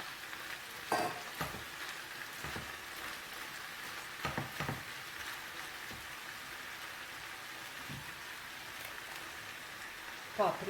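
Julienned carrot frying in a pan with onion and bell pepper: a continuous crackling sizzle with scattered clicks and scrapes from stirring.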